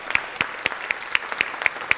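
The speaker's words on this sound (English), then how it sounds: "let's get uh, an applause to three of you for, for all the morning" Audience applause at an academic symposium panel on migration comes through as a light, evenly spaced run of claps, roughly four per second, fairly close and moderate in volume.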